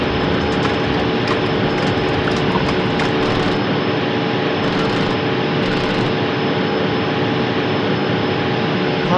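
Jet engines of a Norwegian Boeing 737-800 roar steadily during takeoff from Oslo, a loud, dense, unbroken drone with faint tonal whine heard from inside the aircraft.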